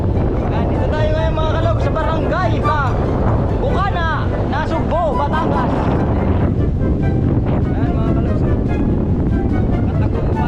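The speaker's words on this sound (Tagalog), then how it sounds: "Ayan, ang lakas ng hangin." Strong wind roars and buffets the microphone beside the sea, with surf rumbling underneath and voices faintly heard through the gusts.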